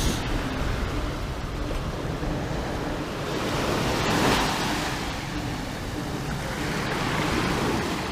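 Indian Ocean surf rolls onto a sandy shore, a loud continuous wash of breaking waves with a swelling crest midway, mixed with wind rumble across the microphone and no voices.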